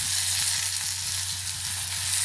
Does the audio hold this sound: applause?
no